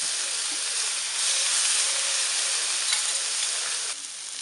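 Paprika-marinated pork chops sizzle on a hot plancha, giving a loud, continuous, even hiss that holds steady throughout and drops slightly right at the end.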